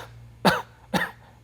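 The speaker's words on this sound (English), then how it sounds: "So I'm going to pretend to cough." Two sharp, deliberate coughs spaced about half a second apart, close and clear, from an instructor demonstrating with a hand on the belly during a therapeutic Pilates session for back strength.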